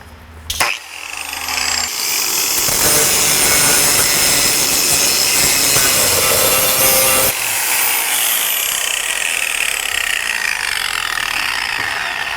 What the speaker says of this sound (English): I'm going to come grind my welds and clean the rest of the rust and everything.